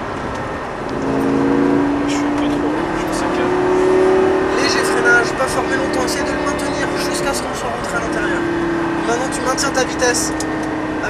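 Lamborghini Gallardo LP560 on a track, engine note rising and falling through gears as it accelerates from inside the car, loud and close, with someone talking over it.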